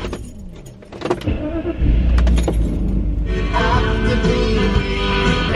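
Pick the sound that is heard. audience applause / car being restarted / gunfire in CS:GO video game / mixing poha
car being restarted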